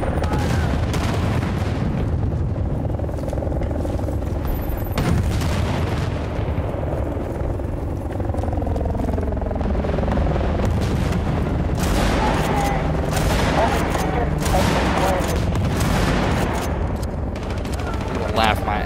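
Dense video game gunfire with repeated shotgun blasts and booming shots, loud and continuous across the whole stretch, with a voice talking over parts of the action.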